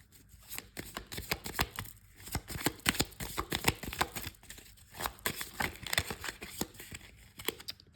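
Tarot cards being shuffled by hand in quick, crisp riffling bursts with short pauses between, close up and fairly quiet, no talking.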